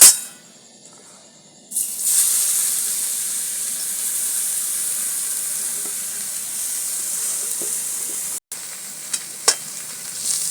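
Grated carrots fry in hot ghee for carrot laddu, a loud, continuous sizzling hiss after a brief quieter opening, close up, with a sudden cut and a couple of sharp metallic clinks near the end. No speech.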